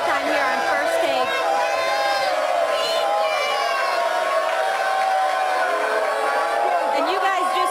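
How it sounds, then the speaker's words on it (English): Studio audience cheering and whooping during a live ESPN First Take broadcast, a steady bright roar of crowd noise throughout with voices rising and falling, fairly distant. "This crowd is so hype"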